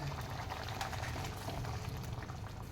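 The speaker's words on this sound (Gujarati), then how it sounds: "આપણી આ દાળ છે એ ઉકળી ગઈ છે" A pot of lentil dal for dhansak simmers in a quiet, steady bubbling boil, with soft continuous popping and gurgling close by.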